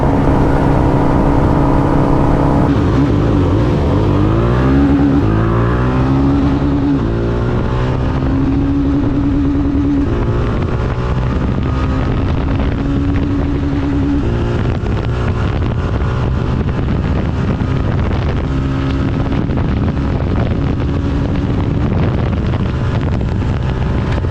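A motorcycle engine (Ronin 225, five-speed) running at high speed, around 120, as the rider shifts into fifth gear. It gives a loud, steady drone with rising and falling engine tones and heavy wind rush over the microphone, with no talking.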